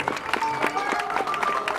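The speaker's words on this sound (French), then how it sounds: "Monsieur Abuja, sous vos applaudissements s'il vous plaît." Audience applauds a designer at Saint Louis Fashion Week, brief scattered clapping mixed with background voices and music tones.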